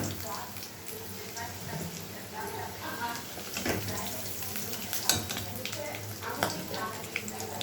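Potatoes with turmeric frying in oil for a prawn dish, a constant close sizzle broken by scraping stirs and clinks of a utensil on the pan, with a voice talking over it.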